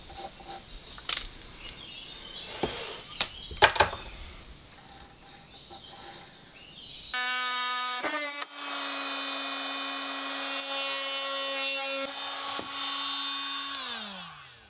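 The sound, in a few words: cutting a corner notch into a wooden board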